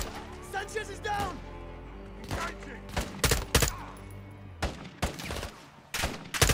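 Call of Duty Modern Warfare 2 gunfire, a string of short sharp shots in irregular clusters, some close and punchy, with a voice speaking over the opening second.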